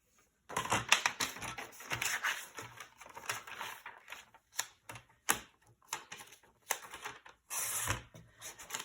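Paper for a glue book is cut up, making quiet crisp snips and rustles in irregular bursts with short pauses between them, close and with no voices.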